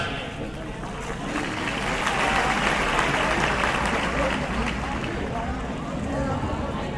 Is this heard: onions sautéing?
no